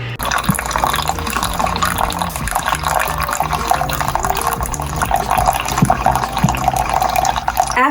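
Keurig coffee machine brewing coffee into a cup, a continuous trickling pour with gurgling and sputtering close by, steady for the whole stretch.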